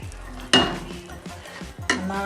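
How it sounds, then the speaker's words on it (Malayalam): Curry with tomato paste being stirred in a pan as a spoon scrapes and clinks against the metal, with two sharp knocks and softer scraping strokes between them, close and clear. "നന്നായി ഒന്നിത് ഇളക്കി കൊടുക്കാം"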